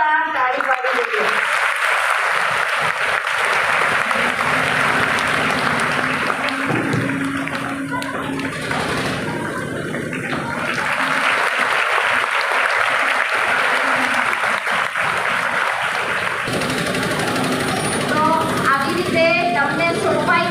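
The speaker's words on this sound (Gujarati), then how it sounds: "તો નિષ્ઠા માટે આપણે એકવાર જોરદાર તાળી પાડી દઈએ" A school prayer assembly claps for a student named Nishtha, a dense sustained round of applause from many hands in a large group, loud and continuous, with voices mixed in.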